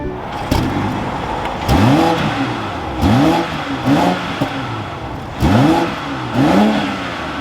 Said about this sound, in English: But let's fire this X6 back up.